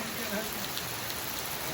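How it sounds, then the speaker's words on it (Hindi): Heavy rain pours steadily on surfaces outdoors on a mall road, a dense continuous hiss that stays loud throughout the short stretch. "इतनी ज़्यादा तेज बारिश"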